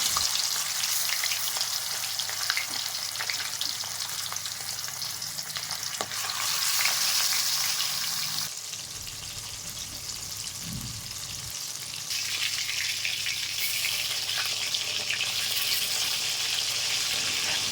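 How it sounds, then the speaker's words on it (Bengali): Stingray pieces frying in hot oil in a wok give a continuous crackling sizzle, loud and close, swelling at moments, dipping briefly midway and then picking back up. "তেল ভালো করে গরম হয়ে গেছে, এবার একটু লবণ দিয়ে মাছগুলো দিয়ে দেবো"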